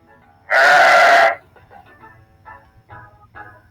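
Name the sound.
sheep bleating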